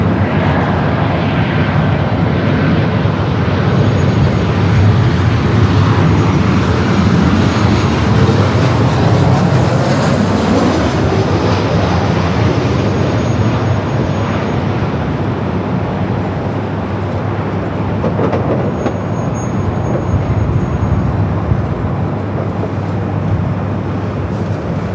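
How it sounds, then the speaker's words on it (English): A Delta Boeing 737 arriving at LAX from Seattle, its engine roar broad and sustained throughout, swelling slightly and slowly shifting in pitch as the jet passes, loud and steady with no voices. "737 coming from Seattle."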